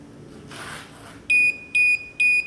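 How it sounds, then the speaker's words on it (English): An HFK HM201 motorcycle dash cam gives three loud, evenly spaced electronic beeps as it powers down after the ignition is switched off, following a brief soft rustle. "three beeps and it's off"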